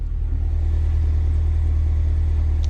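In Sport mode, the Cadillac Escalade V idles with its V engine and a deeper exhaust note. The rumble is heavy, low and constant, close and loud with no talking over it.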